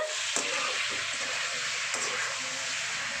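Lemon rice is mixed in a pan over steady sizzling, with a few soft scrapes and knocks from the stirring; close and continuous, with no talking.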